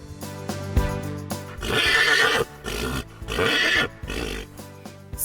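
A horse neighs and whinnies in repeated bursts, loud and close, with low snorting and shuffling between the calls.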